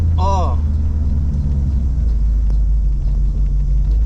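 Deep, steady idle rumble of a custom pinstriped vintage sled car engine, loud and close, with a brief voice at the start.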